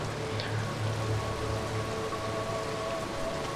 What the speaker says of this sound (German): Und weil es so schön regnet, gehen wir den nassen Weg.